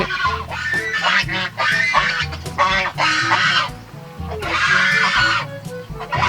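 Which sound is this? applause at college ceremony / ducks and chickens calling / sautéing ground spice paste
ducks and chickens calling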